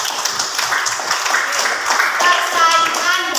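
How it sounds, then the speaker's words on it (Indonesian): Audience applause in a classroom setting: steady, dense clapping from many hands, moderately loud and even throughout, with a few faint voices mixed in. "Kasih aplaus untuk kami."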